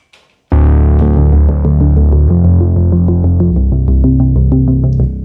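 A bright Memory Moog synthesizer lead with mistriggered notes plays a stepping melody over a thick bass line after a sudden start, the notes running together in a steady sustained stream.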